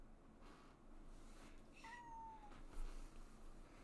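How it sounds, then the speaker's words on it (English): A house cat gives a single short meow, fairly faint under a steady background hum. "What do you want, cat?"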